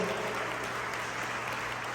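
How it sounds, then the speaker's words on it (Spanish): Applause from a church congregation praising God during a sermon, a steady wash of clapping that fills the whole moment without a break. "Para un aplauso al Señor."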